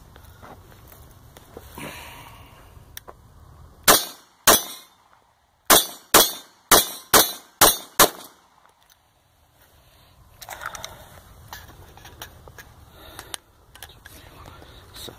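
Nine sharp FNX 45 pistol shots ring out at close range, two quick ones followed by a rapid string of seven, with quiet murmuring and movement before and after.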